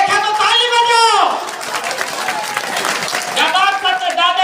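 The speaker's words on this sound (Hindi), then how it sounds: "देखे तो ताली बजाओ" Crowd applause breaks out at a Gondwana Gantantra Party political rally. A man's amplified speech comes before it, then a few seconds of dense, steady clapping follow before the speech resumes.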